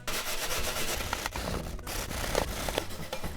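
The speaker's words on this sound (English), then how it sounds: "And we're also going to grate this as well." Peeled vegetable rubbed against a grater for a Japanese yakiniku sauce, a continuous close scraping rasp with uneven strokes and brief pauses.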